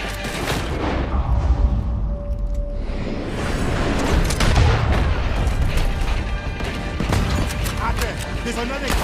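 Gunfire and booming shots fill a Red Dead Redemption battle, dense and loud throughout with heavy low rumbles, while voices talk over the action.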